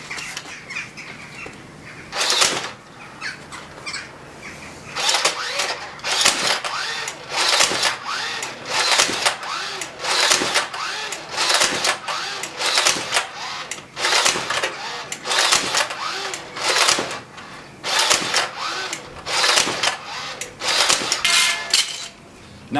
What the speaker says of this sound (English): It appears to be shooting every other dart